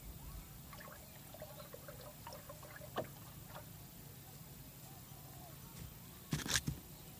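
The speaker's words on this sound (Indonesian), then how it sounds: "Oh ya, kita aduk dulu." Water being stirred in a container while caring for chili seedlings: faint, soft sloshing and trickling, with a brief louder splash and clatter near the end.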